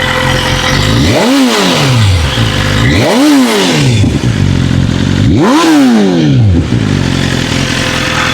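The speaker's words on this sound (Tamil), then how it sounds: "இப்போ எக்ஸாஸ்ட் சவுண்டு கேளுங்க" A motorcycle exhaust with a Valvetronic valve switched open gives three loud, close revs, each rising and falling in a swooping roar over a continuous rumbling idle.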